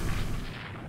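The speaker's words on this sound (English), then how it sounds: "The Zumo's just landed 6-10 inch gun hits on this medium transport." Ten-inch naval gun shells striking a medium transport in the naval strategy game Rule the Waves 2, a dense, loud, rumbling burst of booming impacts that decays over a moment.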